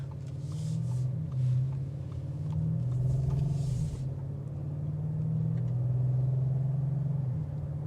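A 2026 Audi RS7 Performance, 621 hp, heard from inside while cruising gently, a steady low engine and exhaust drone with slight swells in pitch, muffled by the cabin, with no speech.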